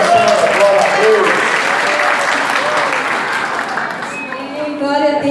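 A church congregation applauds as a woman is called up to minister at an evening service, loud sustained clapping with voices and cheers mixed in, tapering slightly near the end.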